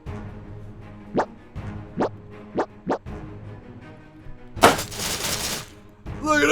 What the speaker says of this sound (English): Look at that big explosion!